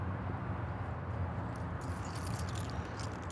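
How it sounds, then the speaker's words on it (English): Keys jangle faintly while being pulled out to open a storage bay on a Prevost X3-45 double-slide motorcoach. Light metallic clinks come mostly in the second half, over a steady background rumble, with no speech. "You got to get the keys out to open this bay up."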